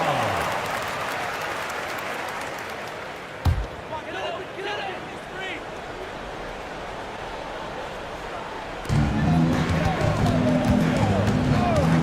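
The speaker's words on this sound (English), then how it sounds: "Give yourself a round of applause." Crowd applause in an NBA 2K basketball video game, a steady arena roar of clapping under commentary, with a sharp thud partway through and louder crowd noise and bouncing toward the end.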